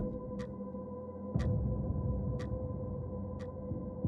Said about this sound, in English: I heard the ticking clock